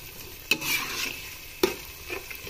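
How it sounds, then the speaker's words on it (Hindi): Onions fry in a pan until brown for biryani, giving a continuous soft sizzling hiss, interrupted twice by a sharp clank of a stirring utensil, heard close with no talking. "प्याज को हम ब्राउन होने तक पकाएंगे"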